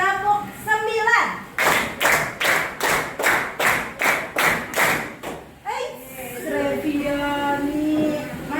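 A classroom of children claps nine times in unison on the teacher's cue, a steady, evenly spaced series of loud, sharp claps, with voices talking before and after the sequence.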